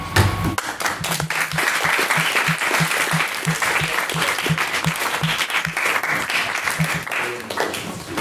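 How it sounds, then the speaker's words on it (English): Sustained audience applause following a speech at an event marking the Easter Rising, dense and steady clapping throughout with a few voices faintly mixed in. "Thank you, Mr. McSorley, for a fine speech, and we can get one more round of applause for all of our brilliant speakers"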